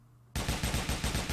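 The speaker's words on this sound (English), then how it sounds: "this time I'm gonna use my special fire" Rapid automatic bursts from a special fire weapon in the Cat Apocalypse video game, a loud steady string of about nine evenly spaced shots starting abruptly after a quiet moment.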